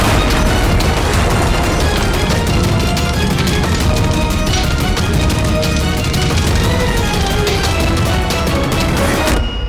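A van explodes in a loud, sustained blast, with dense roaring and crackling debris noise that barely eases over several seconds.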